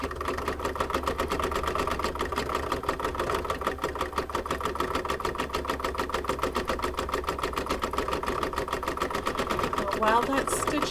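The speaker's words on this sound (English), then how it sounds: "put the machine back on the hoop, and we'll do the decorative satin stitch again" An embroidery machine sews a decorative satin stitch on felt for an apple coaster, a fast, steady mechanical chatter running continuously at close range.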